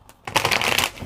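Tarot cards riffled in a short, quick shuffle, a close crisp flutter of about one second.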